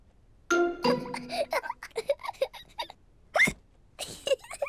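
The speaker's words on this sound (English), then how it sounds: "George drank his juice too quickly, and now he has hiccups." A cartoon piglet has hiccups after drinking juice too quickly, giving a series of short, sharp hiccup squeaks spaced through the clip with a brief bit of character voice at the start.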